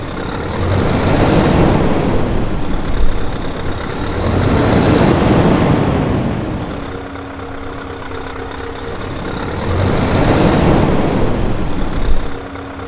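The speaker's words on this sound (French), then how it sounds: "ce n'est pas juste un moteur qui démarre, c'est un rugissement, un grondement profond qui vient du ventre de la machine." Scania V8 truck engine running, a deep low roar that swells, eases and swells again over about thirteen seconds, loud and close, with a steady hum between surges.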